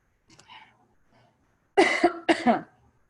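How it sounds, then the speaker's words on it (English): A few faint soft sounds, then two loud, close coughs from a person with a cold in quick succession. "I am fighting off a little bit of a cold, so I am coughing"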